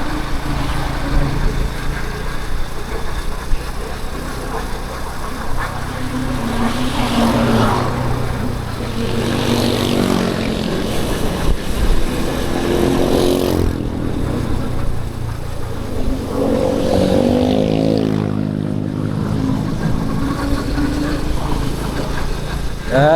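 Motorcycles pass along the road to Puncak in steady traffic. Overlapping engine drones swell and fade as bikes go by close at hand, under a constant roadside rumble, with a voice briefly audible.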